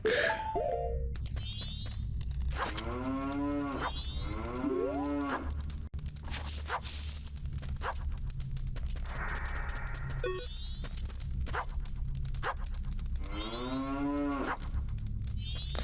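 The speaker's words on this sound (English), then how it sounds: "there's literally a cow in the dungeon with me" In The Legend of Zelda: Majora's Mask, a cow standing in a dungeon lets out repeated game-sound moos in several separate calls, over a steady background hum with chiming tones between them.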